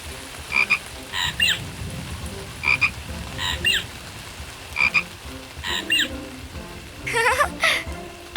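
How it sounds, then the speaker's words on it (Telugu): Cartoon frog croaking in the rain, about seven short croaks spaced irregularly over a steady patter of rainfall, with no talking. "కప్పతో ఆడుతూ వానలో ఉన్నారా"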